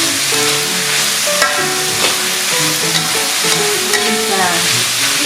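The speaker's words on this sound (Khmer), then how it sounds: "យើងឆាតែបោះគ្រឿងយើងហ្នឹងឲ្យចូលគ្នាល្អ" Mee Sour noodles being stir-fried with seasoning in a pan, a steady close sizzle with repeated scraping and clanking of the utensil against the pan, no talking.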